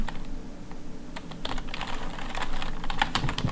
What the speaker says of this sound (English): I'm gonna try to type that as fast as possible